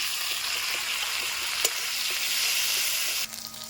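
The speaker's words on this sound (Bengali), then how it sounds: "পেঁয়াজটা ভাজা ভাজা হয়ে আসছে" Chopped onions fry in hot oil for a dried hilsa fish curry, giving a loud, steady close sizzle with faint stirring taps, dropping suddenly near the end.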